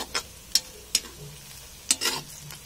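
Onions fry with ground spice powder in a pan, a soft sizzle broken by a few sharp spoon taps and scrapes against the metal.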